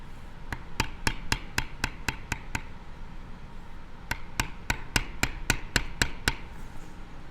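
A mallet taps a leather tooling stamp on a beginner project in steady sharp strikes, a run of about nine evenly spaced taps, a pause, then another run of about eleven, close and crisp.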